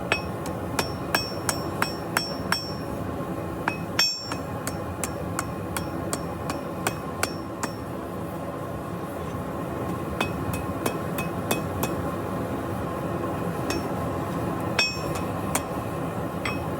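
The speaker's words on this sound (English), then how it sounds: "Hit it on your anvil like this." Red-hot steel leaf hammered on an anvil: a long run of sharp, ringing metallic strikes in quick irregular bursts with short pauses, close and loud, no talking.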